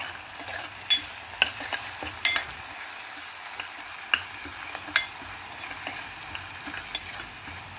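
Onions, green chillies and tomato frying in a pan, a soft steady sizzle broken by sharp clacks and scrapes of a spoon stirring, quiet and close with no talking.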